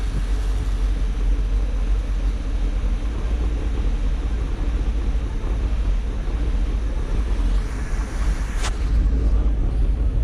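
A Bertram boat engine with its carburetor set slightly high idles steadily and loudly nearby, giving a continuous low drone mixed with wind noise throughout.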